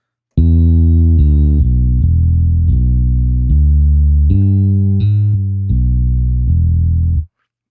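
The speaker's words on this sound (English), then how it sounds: "It's a really lovely bass sound." UJAM Virtual Bassist Mellow bass plugin playing a smooth, rounded bass line of sustained notes with gliding transitions between pitches, loud and clear with no talking.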